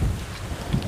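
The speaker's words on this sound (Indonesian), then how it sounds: "angin kencang" Strong wind buffets the microphone outdoors as a drone is readied for flight, a constant low rumbling roar with uneven gusty surges and no voices.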